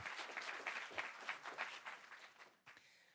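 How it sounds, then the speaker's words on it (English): Audience applause for the finalists of a law-school honors moot court competition, sustained and even clapping from a crowd in a hall, quiet and somewhat distant, thinning briefly near the end. "A round of applause for them making it here."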